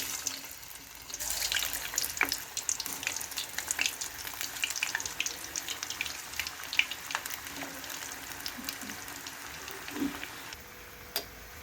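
Cabbage bonda batter frying in hot oil in a kadai, a continuous crackling sizzle with scattered pops and bubbling, steady and close throughout with no voices.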